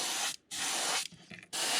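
Airbrush sprays sealer silver paint onto a crankbait lure in three short, close hissing bursts with brief gaps between them.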